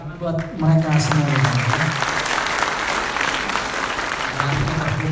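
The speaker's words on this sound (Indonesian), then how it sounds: "Tepuk tangan buat mereka semua." Audience at a Ramadan break-fast charity gathering applauds, a dense, steady wash of clapping lasting several seconds, with a voice speaking over the start and end.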